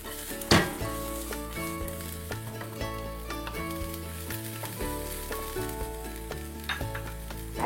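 Egg fried rice with capsicum being stir-fried in a pan: steady sizzling with scraping stirs and clinks of a utensil against the pan, over a tonal musical bed throughout.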